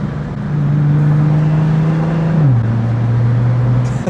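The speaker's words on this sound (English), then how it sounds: "the car sounds good. Even without the downpipes, it just growls." A Nissan GT-R Nismo fitted with a 4-inch SBD exhaust and no downpipes, its engine holding a steady low growling drone up close, with the pitch dipping midway as the revs drop.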